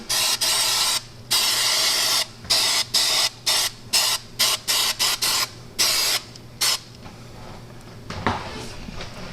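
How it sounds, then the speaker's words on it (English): Aerosol adhesive hisses from a can onto a saddlebag for a Victory motorcycle liner kit, in about a dozen short, loud bursts of varying length with brief gaps between them, then quieter handling noise. "And we're going to spray the area that we're going to do."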